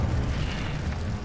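A Confringo-style burst of fire from an Incendio spell in Hogwarts Legacy, a low roaring boom that rumbles steadily for a moment, fairly quiet, with no talk.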